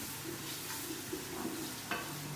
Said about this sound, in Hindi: इसको हम हल्का हल्का फ्राई करेंगे।